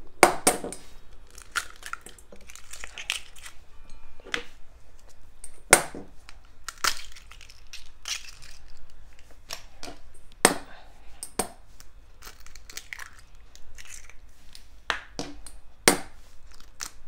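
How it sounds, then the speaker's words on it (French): Eggs are cracked and handled in a small kitchen while making Cantonese fried rice, giving sharp intermittent cracks and crinkly taps spread across the stretch, close and moderately loud with no talking. "je vais venir casser mes œufs et les battre"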